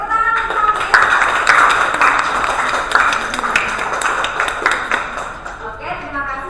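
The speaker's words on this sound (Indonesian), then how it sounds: "Oke, tepuk tangan untuk Sangkin" Classroom applause for a student who answered correctly, a short burst of many hands clapping that fills the room, with voices chattering underneath, then fades near the end.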